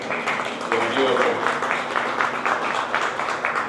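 An audience at an orthopedic spine surgery session claps to welcome a doctor onto the stage, a steady, moderately loud patter of many hands lasting a few seconds, with a voice speaking over it.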